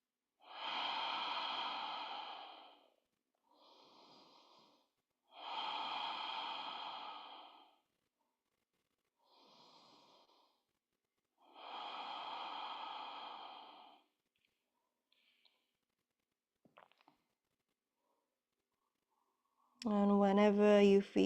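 Slow, deep breaths during a vinyasa yoga practice: five long exhales and inhales alternate in an even rhythm, close and soft, with quiet pauses between and a brief voice at the end.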